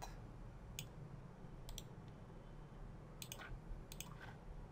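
A few quiet, sharp computer mouse clicks come at irregular intervals over a low, constant background hiss.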